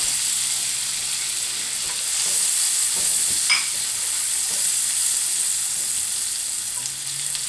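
Onions frying in a pan for a beef stroganoff, sizzling steadily and close by with occasional scrapes as they are stirred.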